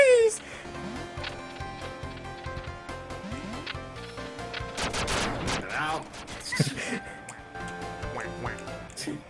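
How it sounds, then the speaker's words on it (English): Sharp shotgun blasts in Duck Game pop out in a flurry over cartoon quacking and game music, with a dense burst of shots in the middle and people talking throughout. "The shotgun's actually pretty good."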